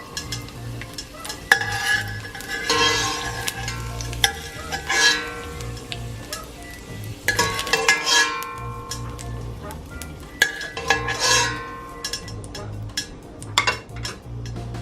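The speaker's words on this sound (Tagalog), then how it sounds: "tanggalin na po natin sa ating kaldero itong ating luya" Browned ginger being scraped and lifted out of a cooking pot for Filipino chicken soup, with repeated metal utensil scrapes and clinks over a soft sizzle, close and intermittent.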